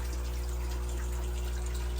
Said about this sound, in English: This is my water pump system.